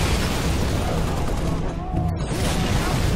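Grenades explode in Halo Reach during a fight with Hunters, dense overlapping booming blasts with crashing debris, loud and continuous, with a voice talking over the din.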